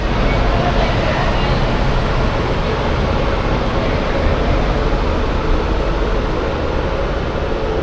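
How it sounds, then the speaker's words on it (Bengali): An Amrit Bharat Express train runs from Kolkata toward Varanasi, giving a steady loud rumble with rattling and wind noise heard from inside the coach, continuous throughout. "একদম না রাইট টাইমে আমাদের ট্রেন ছেড়েছে"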